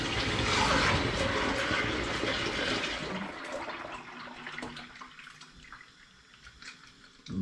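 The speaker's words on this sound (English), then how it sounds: "now it's time for that big dramatic beer wort pour" Thick homebrew porter wort pours into a fermenter, a loud gushing splash that tapers off into quieter trickles and drips toward the end.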